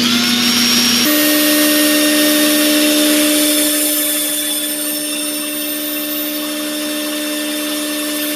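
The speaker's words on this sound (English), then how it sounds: "Do a little bit of sanding on the inside." A power sander working the inside of a segmented wooden vase on a lathe, a loud continuous whirring hum with steady tonal whine that shifts pitch after a second and eases slightly toward the end.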